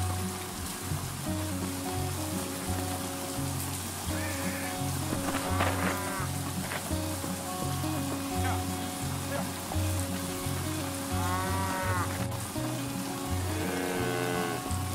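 Steady rain in a survival video game on a desert farm where wild cattle are being tamed, a constant hiss with a low droning hum beneath and occasional cattle calls drifting in.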